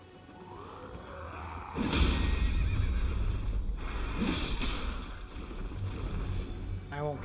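In the video game Elden Ring, a horse whinnies loudly while hooves clip-clop and gear rustles, the neighing rising twice over a sustained mid-level bed of movement and ambient whooshes.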